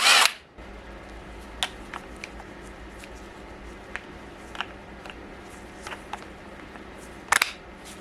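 A cordless Hychika impact wrench removing parts from a Skoda Fabia gives one loud, short burst right at the start. Then the workshop goes quiet, with scattered light clicks and ticks.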